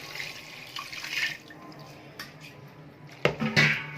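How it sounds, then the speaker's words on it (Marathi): Cold water poured over cooked chicken noodles in a kitchen, heard as intermittent splashing and running water with clinking of a pot, ending in a sharper pour. "थंड पाणी टाकून घ्यायचं, काढून टाकायचं, म्हणजे ते लगेच मोकळे होतात।"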